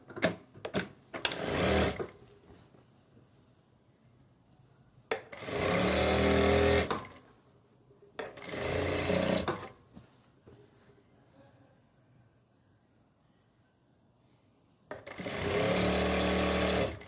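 A sewing machine stitches the leg of palazzo pants in three or four loud, steady bursts of rapid rattling, separated by quieter pauses filled with light handling sounds.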